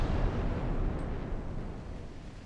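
Heavy naval gunfire in the warship game Ultimate Admiral Dreadnoughts: a dense, booming rumble of cannon blasts that rolls on continuously and loudly, easing slightly toward the end, with no voices.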